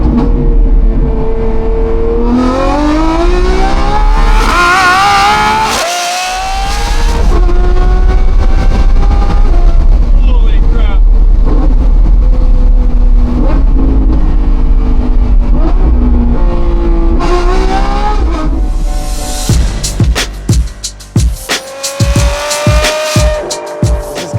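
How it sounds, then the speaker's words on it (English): A Lamborghini Revuelto supercar engine with a Gintani aftermarket exhaust revs hard and loud, with rising and falling pitch sweeps, brief cutoffs and sharp crackling pops near the end, no talking. "this Revuelto has a Gintani exhaust"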